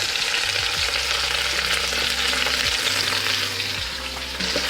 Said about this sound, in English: And we're going to saute for about 2-3 minutes before we add next ingredients.